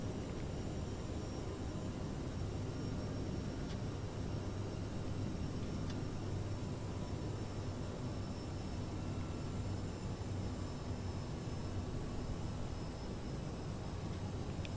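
An Aerosoft CRJ regional jet flies in Microsoft Flight Simulator, its cabin engine drone a steady, dense roar throughout with no letup and no voices.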